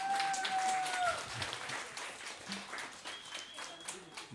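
An audience claps after a jazz quintet piece, a dense sustained round of applause from a crowd while a voice speaks over it and a faint whistle sounds.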